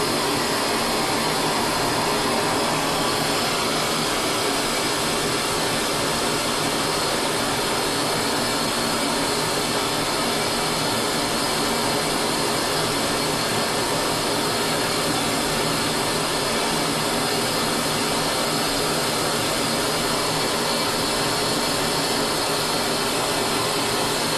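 Gas torch roaring steadily while heating a chamfering tool for silver brazing, a dense, unbroken hissing rush that stays loud and even throughout with no pauses.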